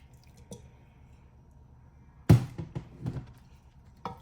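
Olives drop into a pan of Spanish rice paella with shrimp and sausage, giving one soft wet thud followed by a few squishy taps and small plops, close and quiet.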